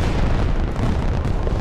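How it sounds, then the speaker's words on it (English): Fireworks burst in the Unturned video game as a dense, rumbling barrage of booms and pops, loud and continuous without a break. "If I can just time this shot with the fireworks."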